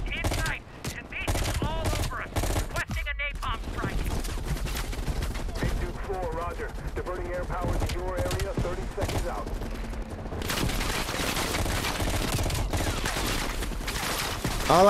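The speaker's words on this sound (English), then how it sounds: "Like, how are you shooting that fast?" Rapid, continuous automatic gunfire in the shooter game Black Ops Cold War, dense bursts of shots running almost without pause, loud and close, with other game sounds mixed in.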